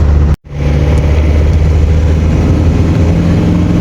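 A car engine hums loud and close as the vehicle drives onto the highway toward Odesa, with a brief dropout near the start followed by a steady low drone and continuous road rumble.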